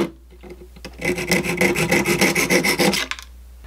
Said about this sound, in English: I'm just going to try and use a little saw here.